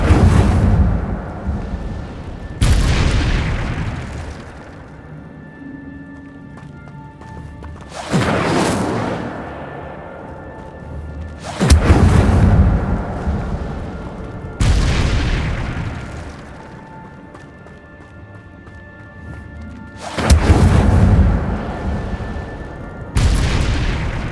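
Hogwarts Legacy fire spells, Incendio among them, burst in repeated loud whooshing booms, about six of them spaced a few seconds apart, each flaring sharply and then fading under a low ambient rumble.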